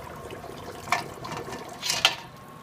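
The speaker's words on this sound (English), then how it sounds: "I'm going to pour it. I happen to have a double strainer here so I can get a nice fine broth" Homemade chicken stock is poured through a double strainer into a big bowl, giving a soft steady trickle with a few louder splashing bursts, heard up close and without talk.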